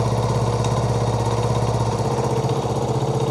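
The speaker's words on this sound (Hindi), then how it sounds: "अभी बाइक का स्टार्ट हालत में है" A Chaina 70cc motorcycle engine idles steadily up close, a loud, even putter with a regular low firing pulse and no talk over it.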